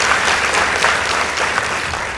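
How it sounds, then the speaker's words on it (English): A school audience applauds at a debate competition between two secondary schools, a dense, steady burst of clapping lasting a couple of seconds with no voices over it. "Let's give them a round of applause."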